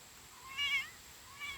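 Cubby the cat meowing outdoors in the morning near a wooded garden, two faint short meows, the second shorter, over quiet background noise.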